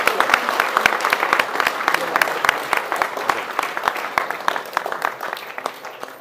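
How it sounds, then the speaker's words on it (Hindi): A hall audience claps at a political speech gathering, rapid sharp hand claps forming loud sustained applause that stays close and thick, then thins slightly toward the end. "दिल से तालियां बजाएं ताकि पता चले"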